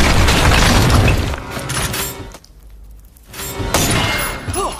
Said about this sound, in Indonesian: ternyata Lucas dan Sorrento ditipu karena faktanya itu bukan uang, melainkan bom